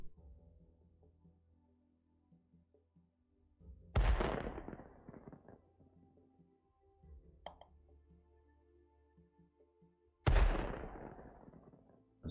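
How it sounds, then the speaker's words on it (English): Two loud, sharp cartoonish blasts from the video game Golf With Your Friends, made in its level editor, ring out several seconds apart and each decays into a crackling tail, with a smaller pop between them over quiet background sounds. "There's another super explosion."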